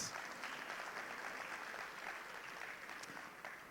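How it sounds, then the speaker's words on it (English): Steady applause from a Rotary District 7030 conference crowd in Trinidad, dense and continuous throughout, with no voices rising above it. "Give them another round of applause."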